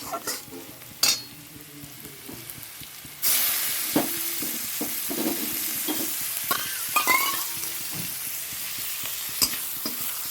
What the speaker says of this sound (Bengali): মাছের তেলটা একটু ভাজা করছি